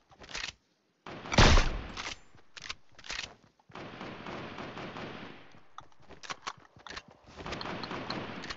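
Rapid bursts of gunfire from the Fortnite video game, several loud clustered volleys with short gaps between them, followed by a denser stretch of continuous shooting and scattered later shots, with no talking over it.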